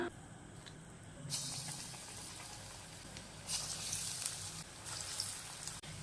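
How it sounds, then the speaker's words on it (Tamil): Chana dal and drumstick-leaf pakoda batter frying in hot oil on a gas stove, a steady bright sizzle that swells louder in bursts, close and continuous with no talking. "இதை பகோடா போட்டு எடுத்துக்கலாம். எண்ணெய் நல்லா சூடு பண்ண உடனே சிம்மில் வச்சுக்கலாம்."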